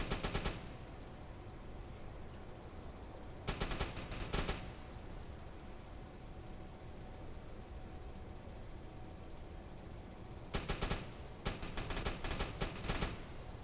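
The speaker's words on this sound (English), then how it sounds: "Shoot the survivors!" Repeated bursts of machine-gun fire in a U-boat game come in three loud, rapid volleys. A short one opens, a second follows a few seconds later, and a longer string of bursts closes over steady engine and sea rumble.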